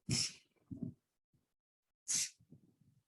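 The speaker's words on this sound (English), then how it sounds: "Can everyone show how can we sneeze in the elbows?" Two sharp, close sneezes about two seconds apart, each followed by soft muffled breathy sounds, in an otherwise quiet room.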